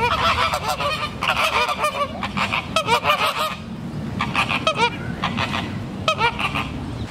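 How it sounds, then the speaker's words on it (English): Caribbean flamingos at a zoo giving loud, goose-like honking calls in bursts, with many birds calling together close by and short pauses in between, with no talking. "Next, we have the Caribbean flamingo."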